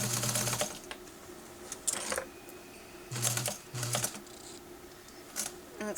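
A sewing machine stitches fabric around curves in short bursts of rapid mechanical rattling, separated by quiet pauses, close and clear with no talk.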